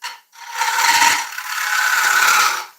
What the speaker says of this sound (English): sometimes you can work against the grain, and what they call a shear scrape.